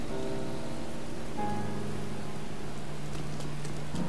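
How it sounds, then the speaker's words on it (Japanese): Steady rain falling over the ruined central plaza of Hyrule in Zelda: Breath of the Wild, a constant even hiss of rainfall with faint tonal game music layered underneath. "一直在下雨，"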